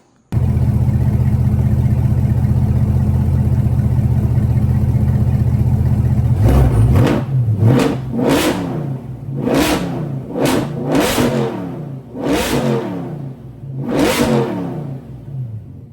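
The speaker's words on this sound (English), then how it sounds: "So this is a cold start on this Borla Atak exhaust." A Corvette C8 with a Borla Atak exhaust cold starts, roaring to life at a high, loud idle, then a series of sharp revs rise and fall in quick bursts, close up with no talking.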